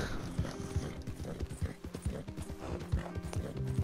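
Horse in Red Dead Online, with steady clip-clop hoofbeats at a trotting rhythm, close and moderately loud, over a busy game backdrop with a possible brief whinny.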